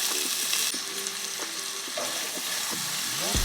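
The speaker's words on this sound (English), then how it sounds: "Okay, so we sauteed all that around." Vegetables sautéing in butter in a pan, a continuous broadband sizzle with stirring scrapes, overlaid by faint tonal background music.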